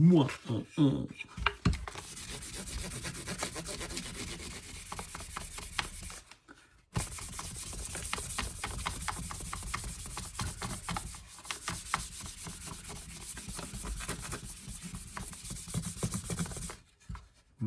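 Fine 3000-grit sandpaper rubbing over the wooden body of a handmade box mandolin, a steady close scratchy whisper in long continuous passes, broken by a brief pause near the middle and trailing off at the end.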